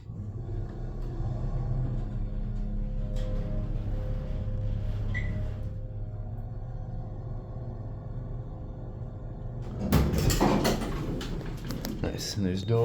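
A Burlington hydraulic elevator motor with a Dover Impulse controller hums steadily at low pitch, then lurches into a louder clattering startup rumble near the end, with someone speaking over parts of it.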